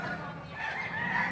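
A rooster crows among chickens at a poultry market in Padre Garcia, Batangas, one short strained call rising over a dense background of clucking birds.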